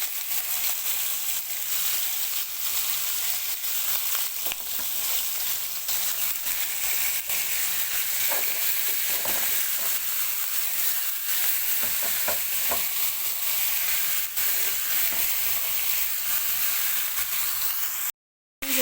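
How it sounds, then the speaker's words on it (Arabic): Meat hits hot butter in a heated pan and sears with a continuous, close, dense sizzle and some stirring scrapes, running steadily almost to the end before a short cut-out. "كده الزبدة سخنت، هننزل بقى باللحمة."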